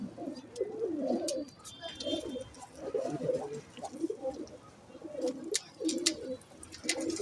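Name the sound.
pigeons cooing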